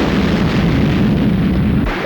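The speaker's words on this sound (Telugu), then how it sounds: "అమ్మో, ఇంకెన్ని బాంబులు వెళ్తాయో" Bomb blasts in a Telugu action film scene make a loud, continuous, deep rumbling roar that fills about two seconds and eases slightly at the end.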